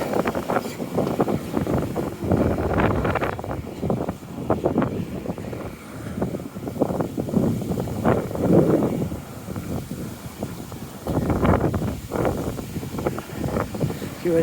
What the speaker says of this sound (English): Oh, it's windy, all right.